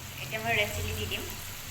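Red chili sizzles in a pan with potatoes during home cooking, a soft frying hiss beneath someone talking.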